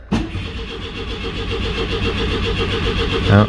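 A Citroën 2CV that has sat unused for a long time cranks and catches, and its small engine runs on in a steady, uneven close idle that is noisy with the airbox removed.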